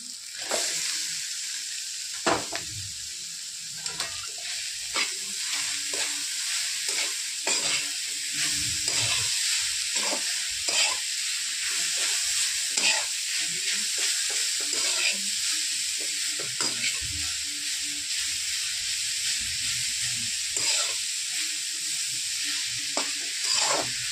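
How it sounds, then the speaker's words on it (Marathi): Radish fries in a pan with asafoetida and salt, giving a long, steady sizzle broken by frequent scraping stirs and spatula clicks, close and unbroken by speech. "आता टाकत आहोत आपण मुळा भाजून"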